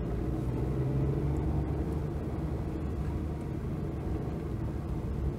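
A Daewoo Tico small car engine while driving, a steady low rumbling drone with road noise that holds at an even level throughout, with no voices.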